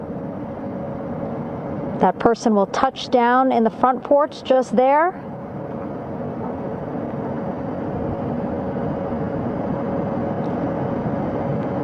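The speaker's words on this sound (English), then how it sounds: "Helo 2 now, hovering just 40 feet above the front porch, lowering a recovery specialist out of the helicopter." A recovery helicopter hovering low over a front porch during an Artemis II recovery operation, its steady drone running throughout, with someone talking over it for a few seconds.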